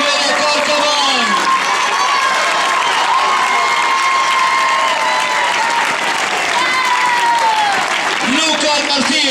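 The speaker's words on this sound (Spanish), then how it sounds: "Vamos a recibir con fuerte aplauso el primero de Lousa." Crowd applause and cheering greet a finisher at a 10K road race on Illa de Arousa, steady and loud throughout, with an announcer's voice and shouts carrying over the clapping.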